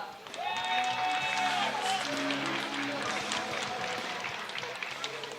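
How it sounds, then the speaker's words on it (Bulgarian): Crowd noise and applause ring out in a fight arena for MMA fighter Dakota Ditcheva, a dense, loud wash of cheering and clapping that holds steady throughout, with a tonal music or horn line running underneath. "Моля вашите силни аплодисменти за Дакота Дичева"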